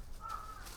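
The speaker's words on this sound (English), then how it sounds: "Mr. Raven, he's huge. He's a big bird." A single large crow on the Osaka Castle grounds gives one faint, drawn-out caw against quiet background hiss.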